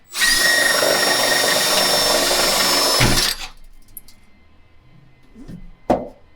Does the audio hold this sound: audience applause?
no